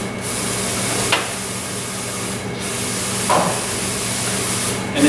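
Aerosol spray is released in short bursts over a fabric print set in an open-back frame, a steady broadband hiss with small pulses at roughly regular intervals, close and moderately loud, with no one talking.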